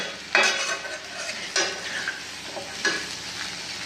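Bhogichi bhaji vegetables stirred in a pan after steaming under a lid, with three distinct scraping strokes of a spoon against the metal over a soft, low sizzle, close and moderately loud.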